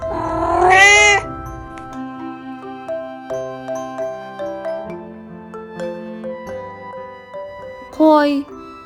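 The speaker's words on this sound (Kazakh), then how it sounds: "Кошка" A cat meows loudly at the start and again near the end, two distinct calls separated by gentle tinkling children's music, heard as part of an animal-sounds lesson.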